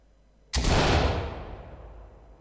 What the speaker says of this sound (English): you can practice throwing that flashbang